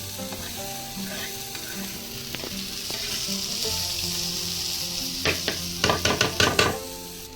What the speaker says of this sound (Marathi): आणि त्याच्यानंतर हिरवी मिरची पण टाकून दिली. आणि मस्तपैकी थोडीशी करपाटूनच घ्यायची अशी मस्त.